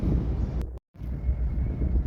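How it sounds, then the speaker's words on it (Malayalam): Strong wind on Shahdag mountain buffets the microphone with a loud, low rumbling roar that cuts out for a moment before gusting on again. "നല്ല കാറ്റുണ്ട്."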